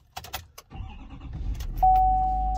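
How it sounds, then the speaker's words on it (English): Keys jangle near a Chevy Duramax 6.6L diesel pickup, then the engine cranks and catches into a deep, steady rumbling idle, with a steady electronic chime tone ringing over it. "We're going to start the truck and let it run for about 3 to 5 minutes"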